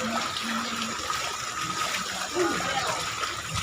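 Someone wades through street floodwater after heavy rain in Malibay, and the water sloshes and gushes steadily and loudly, close by, with a continuous wash of water throughout.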